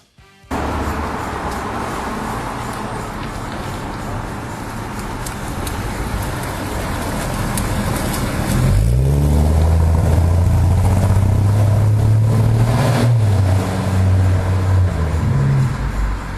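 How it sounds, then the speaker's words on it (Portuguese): A 1985 Chevrolet Opala Diplomata engine idles, then revs up and settles into a steady low drone as the car drives off, loud and close throughout. "Agora nós vamos andar no carro, um dos mitos da década de 80."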